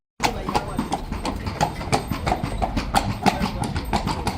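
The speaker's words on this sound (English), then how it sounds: "Believe it or not, there are people in carriages everywhere." Horse-drawn carriage hooves clip-clop steadily on a Seville street, a regular run of sharp, close hoof strikes over a continuous urban background.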